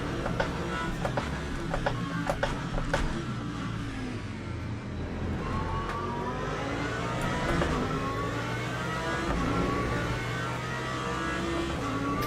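Mustang GTE race car engines in the Le Mans Ultimate racing game, a steady loud engine drone with rising and falling revs and faint clicks, continuous throughout with no talk.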